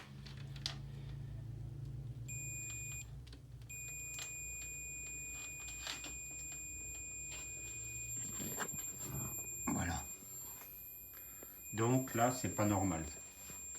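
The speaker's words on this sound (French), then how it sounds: "Le multimètre, il devrait pas biper." A multimeter on continuity test gives a steady, high electronic beep while checking an Audi secondary air pump circuit with a short to ground. The beep holds on with a brief break as someone speaks French over it.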